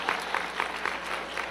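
A church audience claps in a steady rhythm, roughly six evenly spaced beats, moderately loud and filling the space with no voice over it.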